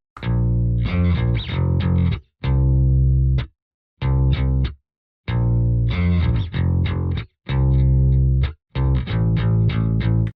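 A deep, heavily processed bass guitar plays a choppy line of short and sustained notes, loud and up front with thick low end and no talking.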